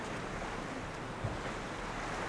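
Ocean waves wash steadily around a wooden overwater platform at a Maldives resort, a dense, continuous roar of surf mixed with wind buffeting the microphone and no pauses.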